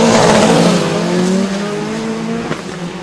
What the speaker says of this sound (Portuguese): Aí vem o André Soares Martins na direita, carro da TMA